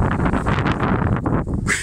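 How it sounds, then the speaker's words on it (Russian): Cold wind gusts at minus 4 degrees in a village buffet against the microphone in a loud, rough rumble for a couple of seconds. "Деревня встретила нас холодным ветром."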